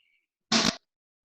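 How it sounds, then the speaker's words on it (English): A single short fart, a brief close burst of about a quarter second against near silence. "That might have been a fart."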